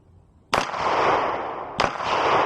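Two loud, sharp Glock pistol shots ring out about a second apart outdoors, each cracking suddenly and leaving a long, fading echo.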